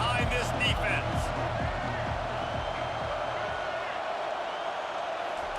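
A stadium crowd in the College Football 25 video game roars steadily on a big third down, a dense sustained cheer with rhythmic thumping beneath a commentator's voice.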